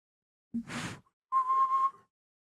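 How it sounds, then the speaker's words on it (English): A person whistles in two short bursts, first a breathy attempt and then a clear, steady tone held for under a second, loud and close in an otherwise quiet room. "I tried to whistle and stop you guys."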